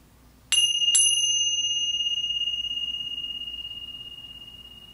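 A meditation bell is struck twice in quick succession, its clear, high metallic tone ringing out alone in a quiet room and slowly fading over several seconds.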